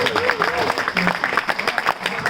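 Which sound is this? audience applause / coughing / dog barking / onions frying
audience applause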